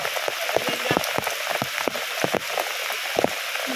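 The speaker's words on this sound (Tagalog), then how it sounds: "Samantalahin na natin itong panahon na umuulan." Rain falls steadily, a close patter of drops striking a surface with scattered sharper taps and drips throughout.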